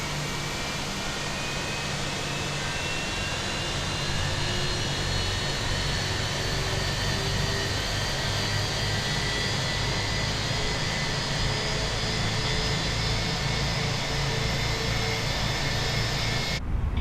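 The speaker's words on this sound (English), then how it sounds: "Starting engine 1." An Airbus A321 jet engine spins up in Microsoft Flight Simulator 2020 on a Dublin to Frankfurt flight, a loud, steady broadband roar with faint whining tones slowly rising through it for about seventeen seconds, heard without talk.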